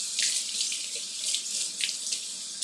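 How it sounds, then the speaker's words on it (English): Tap water pours steadily into a kitchen sink as a large mushroom is rinsed under it, a close, continuous hiss with small surges where the flow hits the mushroom and hands, and no talking. "I'm gonna get one big old mushroom and I'm gonna rinse him off."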